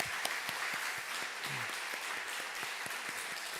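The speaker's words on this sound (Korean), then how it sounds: "하나님께 영광의 박수 올려드리겠습니다" Church congregation applauding during a Korean worship service, a steady wash of many hands clapping at moderate distance, continuous and even throughout.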